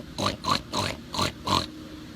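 A pig oinks five times in an even rhythm, each grunt short, close and fairly loud, with nothing else audible around it.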